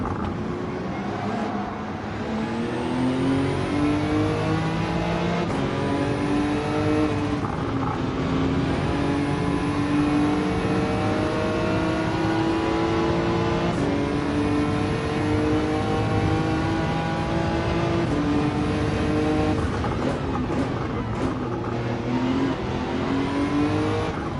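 Racing car in Gran Turismo 7 with its turbo chattering, a continuous loud engine drone with rising and falling revs and fluttering turbo noise over the whole stretch, with no talking.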